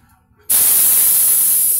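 Spray can of surfacer primer hissing onto the damaged panel of an Elf truck after it hit a post, starting abruptly after a quiet moment and continuing as a steady, loud, close hiss.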